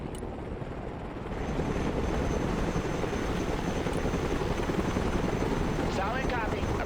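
Chinook helicopter in the video game Broken Arrow, a steady loud rotor and engine drone that swells in after a quiet first second and holds evenly throughout, with faint radio voice chatter over it.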